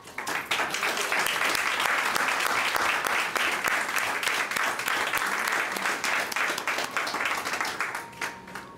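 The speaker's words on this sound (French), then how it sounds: "Avec un tonnerre d'applaudissements qui est fier de ce projet." A crowd at a cultural gallery event in an Afro museum breaks into loud, sustained applause. Many hands clap densely and evenly for several seconds before the sound starts to thin out.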